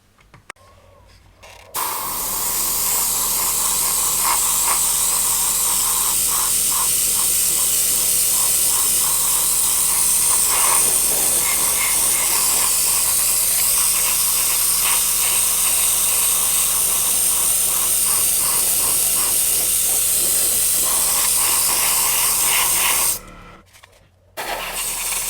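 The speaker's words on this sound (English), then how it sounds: "I want to just get some through the airbrush first before we start putting it down" An airbrush sprays Kaleido ColorWorks paint in a steady, continuous hiss that runs for roughly twenty seconds at close range, starting and stopping abruptly with no talk over it.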